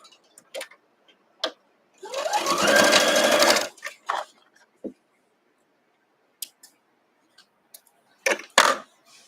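Sewing machine stitching pieces of a kite quilt block, a close, loud mechanical whir lasting about two seconds, surrounded by scattered clicks and light handling taps of fabric.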